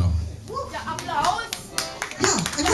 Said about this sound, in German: Der Applaus.